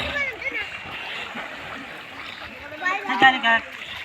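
Water splashing as people bathe in a countryside river, with irregular splashes and a flowing-water wash under lively voices talking and calling out nearby.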